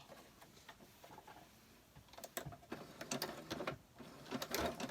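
A sewing machine runs a zigzag stitch in short bursts, faint at first and then rising into a rapid rhythmic ticking and pattering, close by with no voices.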